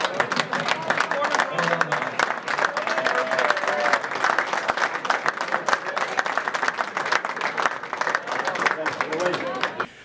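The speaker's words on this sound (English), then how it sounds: "And a big clap for the supporters." Sustained applause from a large crowd at a Donegal GAA 1992 team silver jubilee banquet, steady dense clapping filling the room for the full length, loud and close.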